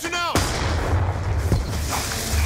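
A concussion grenade detonating in a first-person shooter video game, one sharp loud blast near the start followed by a rumbling tail, with a smaller thud about a second later and game voice callouts over it.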